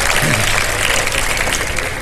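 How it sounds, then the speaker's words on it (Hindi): A studio audience at a televised Ramadan iftar show claps loudly and steadily, a dense continuous patter of many hands close by. "रिजवान भाई के लिए भी बहुत सी तालियां हो जाएं"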